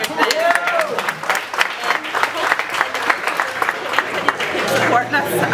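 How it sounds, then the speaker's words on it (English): Lively applause and clapping from guests at a residents association day trip and dinner, uneven and bursty, with voices calling out and chatter woven through it. "give yourselves a round of applause for coming here today"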